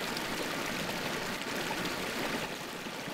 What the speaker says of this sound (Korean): 길가에 이 흐르는 물소리를 들으면서 걷고 있으니 진짜 봄이 온 것 같습니다